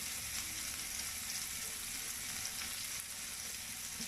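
Chickpeas frying with turmeric powder in a pan, a continuous soft sizzle that holds steady throughout with faint stirring.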